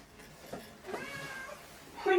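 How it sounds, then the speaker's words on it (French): A house cat meows a few times in a quiet room, soft at first and then a louder, clearer meow at the end. "Oui mon chat."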